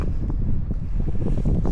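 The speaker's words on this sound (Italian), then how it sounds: "Adesso appena cala un attimo la raffica" Strong wind gusts buffet the microphone on a mountain pass at about 1500 metres, a loud, rough roaring rush that rises and falls without pause.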